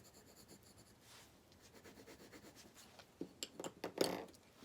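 Soft coloured-pencil blending on paper, a steady faint rubbing and scratching of a slightly blunt pencil crayon in an extension holder, growing into a few louder, quicker strokes near the end.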